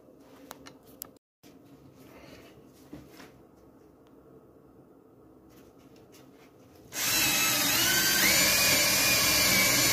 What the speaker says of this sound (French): c'est parti pour le perçage et après on fixera sur la planche